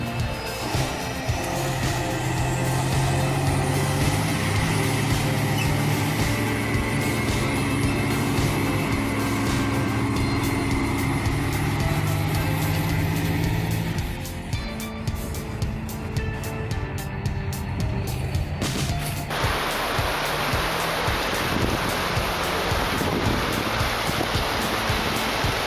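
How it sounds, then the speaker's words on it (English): A Kamaz truck charges through the middle of a river, a steady roaring wash of churning water and engine noise that runs continuously, then shifts to a brighter hiss of splashing spray near the end. "only a Kamaz dares to charge straight through the middle of a river"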